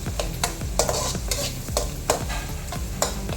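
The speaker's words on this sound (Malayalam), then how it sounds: "സവാള നന്നായിട്ട് വഴറ്റിയെടുക്കണം" Onions sautéed in a pan for rava uppumavu, a steady sizzle broken by regular scraping strokes of a spoon against the pan about every half second, close up with no talking.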